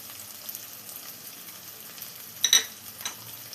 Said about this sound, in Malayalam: ഇത്രയും ചേർത്തിട്ട് നന്നായി ഒന്ന് മിക്സ് ചെയ്തെടുക്കാം